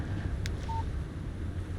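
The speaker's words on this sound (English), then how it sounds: "Text message from Barry." A phone text message alert in the video game Alan Wake gives a short electronic beep and a brief tone over a steady low rumble of wind-like ambience.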